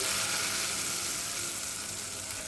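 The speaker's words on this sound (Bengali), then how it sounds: "এবার এই তরকাটা চাটনির মধ্যে ঢেলে দিচ্ছি" Hot oil tempered with curry leaves hits a vegetarian Bengali chutney, giving a steady, close, loud sizzle and crackle that holds evenly for a couple of seconds with no talking.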